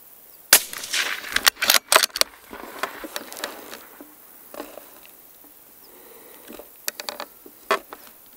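Rifle shots at an outdoor shooting range aimed at steel targets 200 to 300 metres away: a quick cluster of sharp cracks early on, then scattered single shots with quieter gaps between them.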